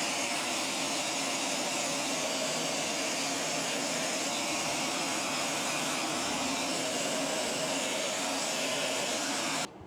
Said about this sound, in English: We're gonna use our sander mainly for the flat areas